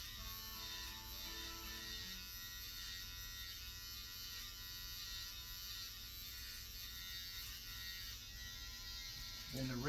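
An electric razor buzzes steadily and close by throughout a haircut line-up, a constant droning hum with a slight shift in tone near the end.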